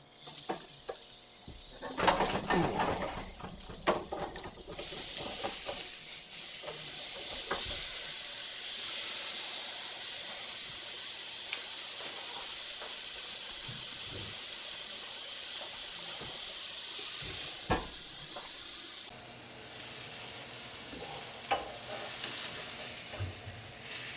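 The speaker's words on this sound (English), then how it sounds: "we're finished with our steak searing cook" A steak sears on a Kenyon Revolution electric grill with a steady hiss and sizzle that runs throughout, broken by a few clattering handling sounds near the start and brief pops and shifts later.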